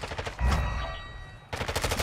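Rapid automatic gunfire in a shooter game comes in fast, loud bursts, with a heavy boom and short lull between a burst at the start and another at the end.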